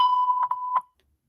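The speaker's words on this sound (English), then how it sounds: "just say your name and what you're calling about after the beep." A single steady electronic voicemail beep on a phone call, sustained for nearly a second with small flutters near the end, then silence.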